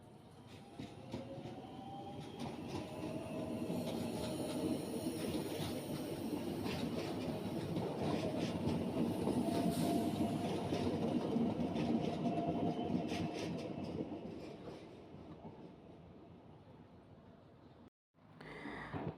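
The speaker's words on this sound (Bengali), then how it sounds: "আমাদের ট্রেন ট্রেন যাবে এখন সেজন্য অপেক্ষায় আছি ট্রেন আসতেছে" A train pulls into a station, a loud, steady rumble of wheels and rail clatter that builds and holds for most of the stretch before cutting off briefly near the end.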